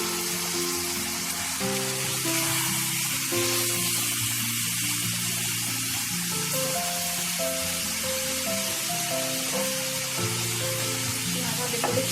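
Loud, continuous sizzling and crackling as washed chicken pieces fry in a hot pan for Chettinad chicken fry, a steady dense hiss with faint clatter underneath and no pauses.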